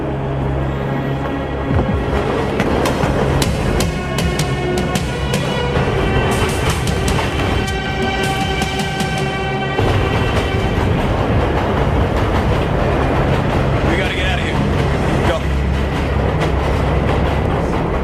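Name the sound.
train passing on tracks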